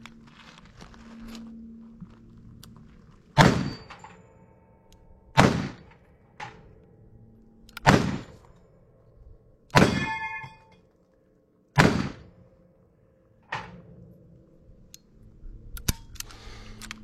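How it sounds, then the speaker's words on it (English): Gunshots ring out against a steel plate rack target, about seven sharp bangs each followed by a bright metallic clang, spaced roughly two seconds apart and loud, with quiet pauses between. "I'm going to have to reload on this plate rack."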